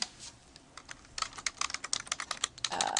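Rapid, close clacking of computer keys as a title is typed. The strokes come in an irregular stream, some faster and louder than others, with a brief humming tone at the very end and no one talking.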